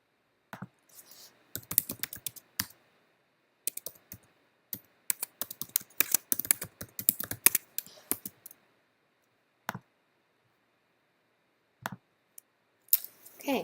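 Bursts of clicky computer-keyboard typing as a username and password are entered, quick irregular keystrokes in several runs with short pauses, close and fairly quiet, no talking.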